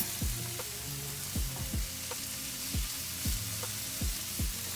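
Bite-sized pieces of prosciutto and salami sizzling in a hot pan, a steady frying hiss broken by repeated scraping stirs at a regular pace, close and moderately loud with no talk.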